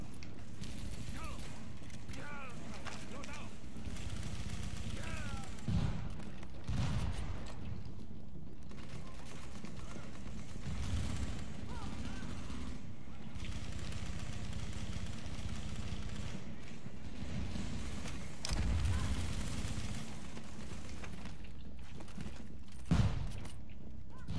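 Gunfire from The Division, a third-person shooter played on PC, comes as scattered bursts and single shots under ongoing talk and game ambience, with a few louder cracks standing out.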